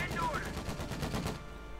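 An M20 armored car in the game Company of Heroes 2 fires on retreating infantry, a quick rattling burst of rapid shots over about a second, cut short and mixed under game ambience.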